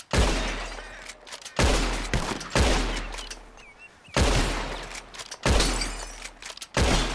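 Gunfire in the video game Red Dead Redemption 2, a string of loud, sharp shots spaced about a second apart, each with a booming reverberant tail, and no talk over them.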